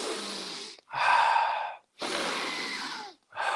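Deep breathwork breathing during a guided embodiment practice: three long, loud, airy breaths close to the mic, each separated by a brief silent pause, with a fourth beginning at the end.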